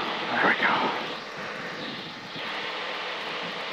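The engine of a Sting light aircraft roars steadily during takeoff, a loud, close, continuous drone heard from the cockpit with a brief swell near the start.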